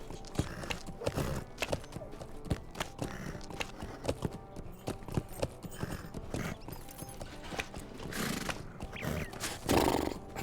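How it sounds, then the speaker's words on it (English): Rhythmic clip-clop of horse hooves trotting steadily in the video game LOTRO, close and clear, with occasional whoosh effects and a brief louder burst near the end. "I love the horse sound effects."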